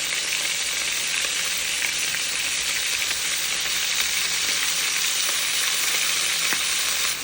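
Garlic leaves sautéing in a hot pan, a continuous loud hissing sizzle held close throughout with faint occasional clicks of stirring and no speech.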